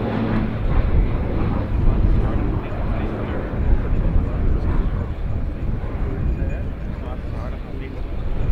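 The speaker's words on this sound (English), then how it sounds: "Flying from your right, the Tango 6 aircraft executes a horizontal 4-point rotation" A Hellenic Air Force T-6A Texan II turboprop performs a four-point roll at an air show, its engine a steady, rumbling drone heavily buffeted by wind, with an announcer's voice over it.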